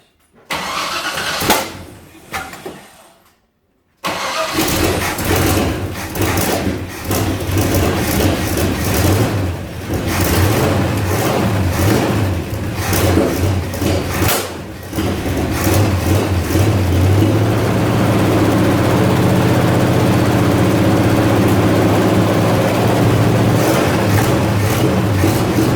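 A 1980 GMC C35 truck engine cranks in short bursts, pauses, then fires up and settles into a loud, steady rough idle close by.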